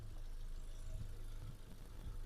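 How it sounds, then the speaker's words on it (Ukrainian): A Volkswagen Caddy 1.6 MPI petrol engine idles quietly and evenly, a faint steady low hum with a soft rhythmic pulse and no voices. "Мотор працює тихо рівно, не димить, не труїть, не сапунить."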